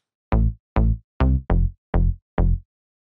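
Six short, deep synth bass notes from a remake of a song are played one after another at an even pace, each with a punchy attack and quick decay, with silence between them.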